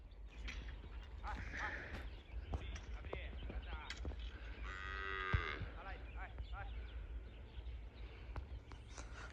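Gir cows in a crowded cowshed pen moo in a few low, drawn-out calls at moderate distance, heard among background farm noise and occasional voices.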